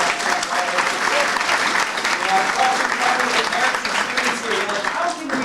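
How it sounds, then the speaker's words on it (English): An audience at a high school summer career academy event claps in sustained, dense applause from many hands, steady throughout, with faint voices woven in under the clapping. "round of applause please for Shireen, Dr. Eric, Matt Martin"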